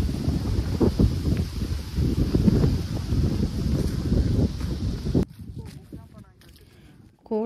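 Strong gusts of wind buffet the microphone outdoors on an autumn walk in Canada, a loud, rough roar for about five seconds before easing to a quieter hush near the end.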